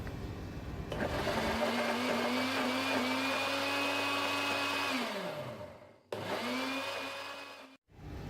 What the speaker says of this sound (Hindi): माश की दाल और मूंग की दाल को मैंने बहुत अच्छे तरीके से ब्लेंड कर लिया।